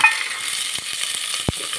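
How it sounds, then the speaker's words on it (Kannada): Soaked field beans fry in a pan with a soft, steady sizzle, broken by a few light stirring clicks and one sharper knock, heard close with no talking. "ಒಂದು 5 ನಿಮಿಷ ಫ್ರೈ ಮಾಡ್ಕೊಳ್ಳೋಣ."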